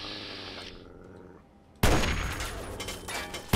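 Gunfire in Fallout 3: after a quiet stretch, a loud, dense burst of rapid shots suddenly erupts and keeps going, with another sharp blast at the very end.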